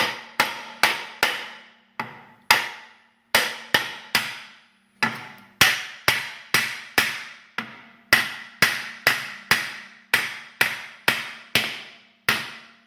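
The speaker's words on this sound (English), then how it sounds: "I'm using an aluminum hammer." Aluminum hammer tapping a cylinder liner down into a Rolls-Royce Silver Cloud III engine block, a long series of sharp, close metallic knocks in quick uneven bursts with brief pauses, heard alone without talk.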